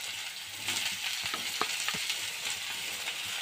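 Chopped onions for a prawn curry sizzle and crackle in a hot pan, a steady, soft frying hiss with a few sharper pops, close and without talk.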